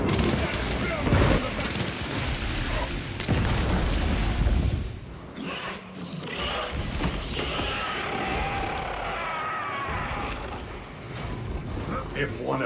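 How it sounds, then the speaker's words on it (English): A frag grenade blast in Warhammer 40K Space Marine 2, heavy booming detonation amid dense gunfire and clanking mechanical battle noise, loud and close, easing into a rumbling, crackling aftermath. "Unleashing frag grenade!"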